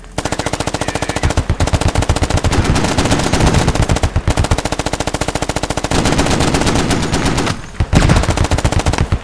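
Marines fire a .50 caliber machine gun in long, loud, rapid bursts at close range, with a steady hammering rhythm broken by a few brief gaps.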